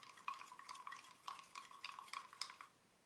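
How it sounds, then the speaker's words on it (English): Gold Tjhoko chalk paint, clumpy at the bottom of its bottle, being stirred in a steady rhythm of quick, faint scraping and tapping strokes, heard close and quiet, with no voices. "So let's give this a good stir."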